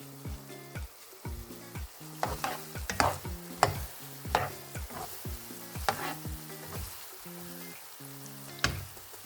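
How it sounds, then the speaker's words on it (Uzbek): Menemen fries in a pan, eggs with vegetables sizzling steadily while a spoon stirs with repeated scraping clinks against the pan, close and fairly loud. "Endi bitta aralashtirib olamiz yana."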